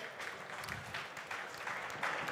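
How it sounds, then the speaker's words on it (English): Applause from an audience at a startup pitch event in Europe: a faint, steady patter of clapping from a crowd, heard at a distance and sustained throughout. "let's fire over to, first of all, a round of applause for Surfer Penguin."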